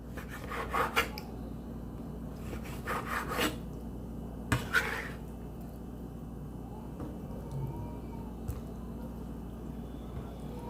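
A knife makes a few quiet rasping slices through chicken on a cutting board, soft and close, with pauses between strokes.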